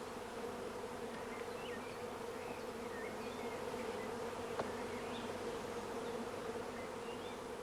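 Honeybees crowd a swarm box holding frames of pollen, water and food. A steady, low droning hum continues throughout at a close, even level, with no talking.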